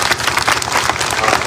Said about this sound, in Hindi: और जो ये तालियां बजी है